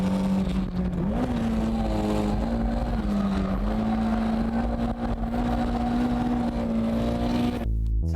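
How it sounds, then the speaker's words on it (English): An underpowered Toyota AE86 Hachiroku drifting, its engine holding a loud, steady high-revving drone throughout before cutting off abruptly at the end. "So, how was drifting with an underpowered Hachiroku?"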